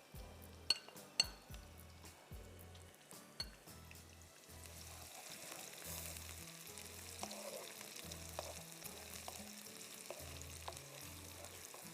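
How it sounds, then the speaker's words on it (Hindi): Onions frying in a pan for a chicken Bihari qorma, sizzling steadily at close range. A few sharp clinks of utensils against cookware come near the start, and nobody speaks. "जब तक ये प्याज यहाँ पर फ्राई हो रही है"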